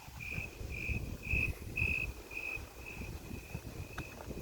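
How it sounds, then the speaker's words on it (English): Crickets heard outdoors on a walk, a regular train of short high chirps pulsing about twice a second, faint under gusts of wind buffeting the microphone. "I love crickets."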